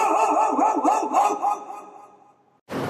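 A mimicry artist imitates a dog barking with his voice on stage, giving a quick run of five or six close, rhythmic barks that trail off into a fading whine before a brief noise.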